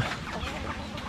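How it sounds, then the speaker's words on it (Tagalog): Hungry pet chickens cluck close by in a brief, continuous jumble of soft fowl calls. "Nagugutom na yung alaga nating mga manok."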